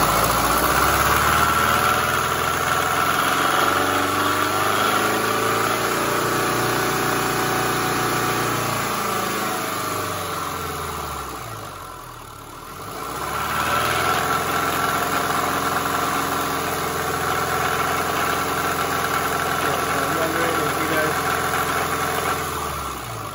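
1999 Subaru Forester with an EJ25 engine running with a mysterious noise, a steady engine drone whose pitch sweeps down as the RPM drops, dips in level midway, then settles back to idle.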